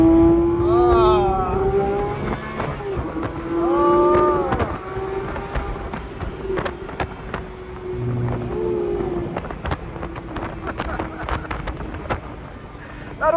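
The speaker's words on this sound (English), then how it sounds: "That engine sounds so flippin' good, man." A Porsche 911 Speedster engine revs close by, its pitch climbing and falling in repeated surges over a steady, throaty drone.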